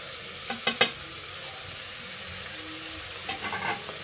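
Chopped tomatoes and bottle gourd frying in garlic-ginger paste, with a steady low sizzle under a few sharp stirring clinks near the start and again toward the end, close and fairly quiet.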